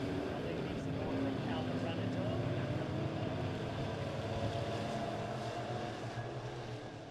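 Midwest Modified dirt track race cars in a heat race at Springfield Raceway roar around the oval in a dense, continuous engine drone that stays loud throughout, with a race announcer talking over it.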